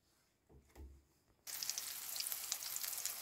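Zucchini slices coated in beaten egg and semolina drop into a hot pan, with a couple of soft handling knocks first and then a sudden bright, steady sizzle of frying.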